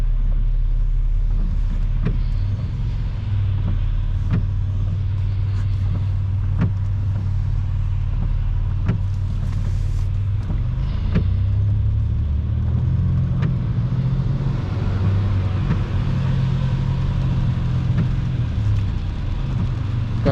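Steady road rumble of a car driving in dense highway traffic near a busy exit with semi-trucks, continuous and fairly loud with low engine drone and passing vehicle swells, no talking.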